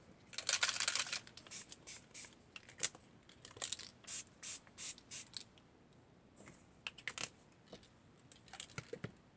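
Soft, quick hissing bursts of a spray bottle of teal ink, a longer spritz first and then a scatter of short puffs, faint and close, with small clicks.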